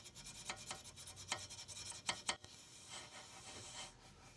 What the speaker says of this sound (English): So I'm just making sure that I hit all around the inside, because this brush is just a tiny bit smaller than this bore.